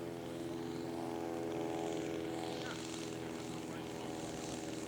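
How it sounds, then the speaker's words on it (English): A radio-controlled scale model airplane on its landing approach at a scale aircraft show, its propeller engine droning steadily at a distance with an even, sustained hum. "this is going to be Gary's landing"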